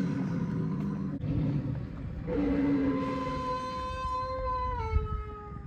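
A Halloween Immortal Werewolf animatronic lets out a drawn-out electronic howl that rises and wavers over several seconds against a low rumbling growl, fairly faint and with no talking.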